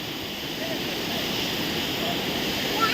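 Rushing water at Thirparappu waterfall sounds as a steady, broad roar heard from a bridge approach at some distance, unbroken for the whole stretch.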